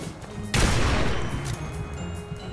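Gunfire in a Fallout wasteland video game, heard as a loud, sudden blast followed by a decaying rumble and a dense wash of noise.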